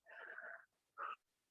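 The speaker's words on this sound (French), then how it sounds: "Une respiration Ujjayi" Ujjayi breathing during a yoga session: a long, even, hissing breath lasting over half a second, then a shorter breath after a pause, close and soft with no talk.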